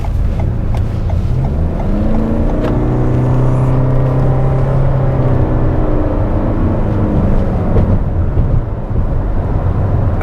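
A 2021 Toyota Venza Hybrid Limited AWD accelerates, its engine drone climbing steadily in pitch over a continuous road rumble, moderately loud and steady throughout with no talking.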